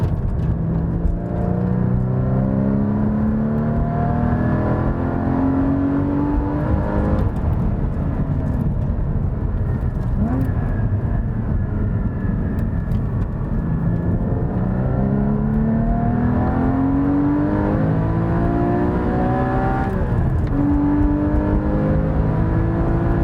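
A car with rubber bushings and spherical bearings revs hard while driving, its engine note climbing and falling in repeated sweeps, loud and close throughout with no talk.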